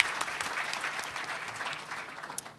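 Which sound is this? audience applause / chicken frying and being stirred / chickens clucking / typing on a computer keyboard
audience applause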